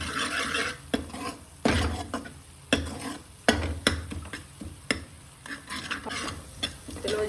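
A spoon stirs yogurt into cooking masala in a pan, with a soft sizzle and repeated sharp clinks and scrapes against the metal at an irregular rhythm.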